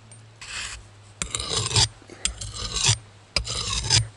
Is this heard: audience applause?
no